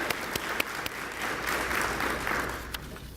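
Steady applause from an audience at an employee retirement dinner honoring retiring school staff, a dense wash of clapping with a few sharper claps standing out, moderately distant and continuous throughout.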